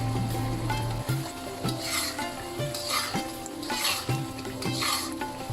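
Steady sizzling of fried sepu vadi dumplings added to curry in hot oil, with a spoon stirring and scraping the pan in repeated strokes underneath.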